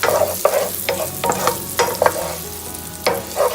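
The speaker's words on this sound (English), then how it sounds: "And then we cook that down a little bit." A sun-dried tomato sauce cooking down in a pan for Tuscan chicken mac and cheese, with a soft continuous simmer broken by several spoon scrapes and stirs close by.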